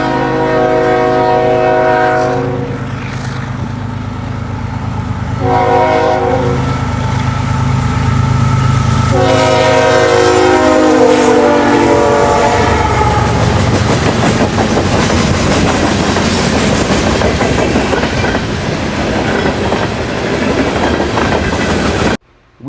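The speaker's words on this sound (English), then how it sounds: "We hang around for one more before calling it quits as CN 2983 East leads" Eastbound freight M394 for Toronto, led by CN locomotive 2983, sounds loud sustained horn blasts near a Chicago East Side line, then roars past with heavy rumbling and rhythmic wheel clatter.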